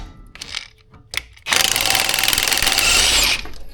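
A power tool spins a socket to remove the shock nut on a Suzuki XL. A few short taps and clicks lead into a loud, close burst of impact rattling lasting about two seconds before it stops.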